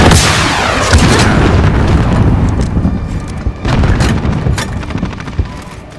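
A grenade blows up in Call of Duty: Modern Warfare amid close gunfire, with heavy booming blasts and dense rattling shots carrying on for the full six seconds. No one speaks.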